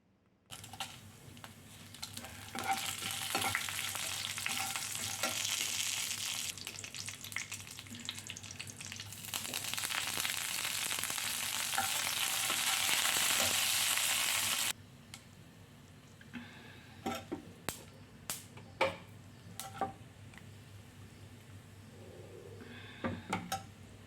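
Loud, steady sizzling of tempering spices and curry leaves frying in hot oil for most of the clip, then a quieter stretch with scattered clicks and ticks.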